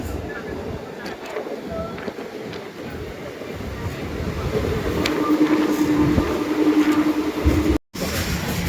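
A moving train rumbles steadily in a low, continuous roar, growing somewhat louder midway, with a brief dropout near the end.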